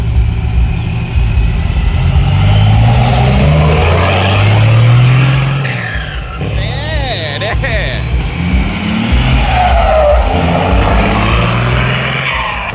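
Powerful cars rev hard and drive out of a temple grounds, loud engine roar and rising revs filling the scene throughout, with people talking and cheering over the noise.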